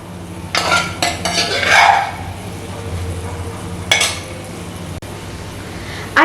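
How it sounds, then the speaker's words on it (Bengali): Boiled, mashed chana dal is mixed in a pan with green chillies, with a spatula scraping and knocking against the metal in bursts over a faint sizzle. "আবারও ছোলার ডালটা একসঙ্গে ভালো করে মিশিয়ে নেব"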